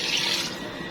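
Water runs steadily into a cooking pot for aloo gosht, a continuous tap-like splashing pour at close range, loud and alone without any talk.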